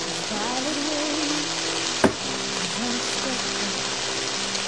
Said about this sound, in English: Now to this mixture, we're going to add our wine, about a quarter to a half a cup.